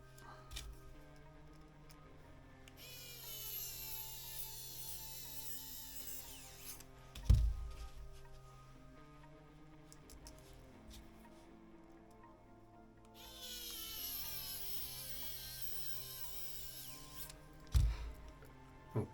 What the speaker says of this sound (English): Just want to get the screws in it.